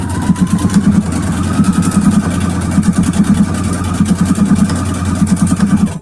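An embroidery sewing machine stitching out a design, a loud, close, rapid mechanical chatter with a steady pulsing rhythm that runs continuously without pause, with no talk.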